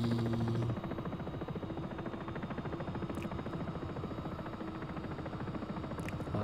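A helicopter in the X-Plane 11 flight simulator drones steadily with a low, fast rotor chop and engine hum, constant and moderately quiet throughout.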